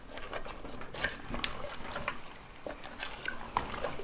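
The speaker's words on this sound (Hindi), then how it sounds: "इसे मिक्स करूंगी अच्छी तरह से।" Goat trotter curry stirred in a pot after water is added, close wet sloshing with irregular clicks and scrapes of a spoon against the vessel, moderately quiet and steady.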